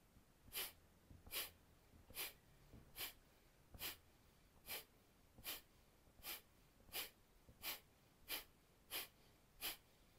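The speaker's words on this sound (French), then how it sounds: "Kapalabhati lent." Slow kapalabhati breathing exercise: about a dozen short, vigorous nasal exhalations, sharp and evenly spaced roughly every 0.8 seconds, close and clear over a quiet room.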